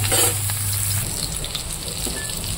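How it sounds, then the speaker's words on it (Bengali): Cauliflower frying in oil, a close, steady sizzle with fine crackling spatters over a low hum that drops away after the first second, no voices. "তো ফুলকপিটাকে ভেজে নিলাম আমি লাল লাল করে"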